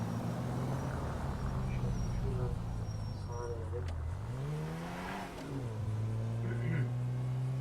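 A modded Volkswagen Passat in GTA 5 accelerates sluggishly, its steady engine hum rising and dipping in pitch with a few revs, under someone talking throughout.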